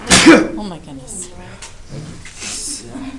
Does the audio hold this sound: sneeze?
yes